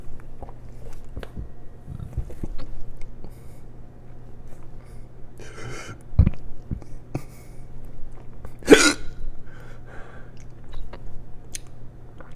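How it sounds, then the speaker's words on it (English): Hiccups from someone who has just eaten very spicy peppers, a few short sharp gulping catches spread through a quiet room with light mouth and chewing noises, one louder hiccup standing out near the middle. "Here we go, hiccup."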